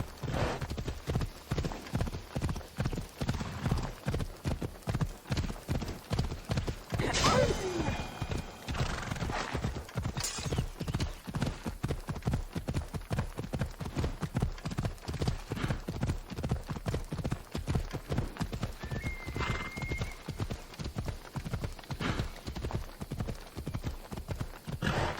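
Phobos, a horse in Assassin's Creed Odyssey, gallops in a fast, steady clip-clop of hooves, close and continuous for the whole stretch, with a couple of whinnies and brief moments of talk.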